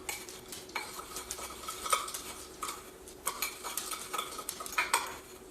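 A spoon scrapes and stirs a chunky purple sugar scrub in a bowl, with irregular gritty clinks and scraping strokes at close range and no talking.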